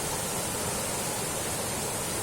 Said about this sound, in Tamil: பாருங்க தண்ணி எப்படி ஆர்ப்பரிச்சுட்டு வருது.